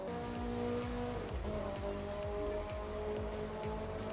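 A car engine in The Crew 2 racing game revs and shifts through gears with a reverberant, echoing tone inside a tunnel, loud and continuous without any talk.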